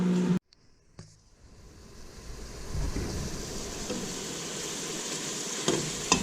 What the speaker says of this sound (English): So I'm going to brown this hamburger and onions together with my diced green peppers.